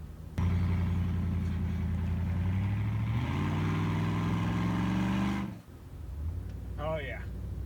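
A truck engine running and idling smoothly after new spark plugs, a steady mid-pitched hum that shifts up slightly partway through, then drops off before settling back to a quieter idle.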